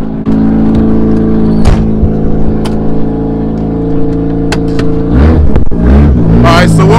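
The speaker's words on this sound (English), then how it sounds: "Noticed the car was a little loud" Very loud race car engine with a blown-out exhaust baffle, idling with a harsh, rattling drone and then blipping and revving sharply near the end, close and raw.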